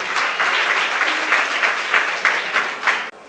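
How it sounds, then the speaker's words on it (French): A crowd applauds steadily at a community association gathering honoring Madame Boni, the clapping sustained and dense throughout before cutting off abruptly at the end. "Applaudissez-la, vraiment."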